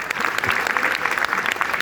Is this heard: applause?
yes